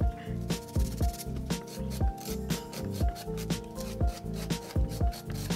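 A file works quickly over acrylic PolyGel nail extensions, making rapid rhythmic back-and-forth rasping strokes, close and fairly loud, with no talking.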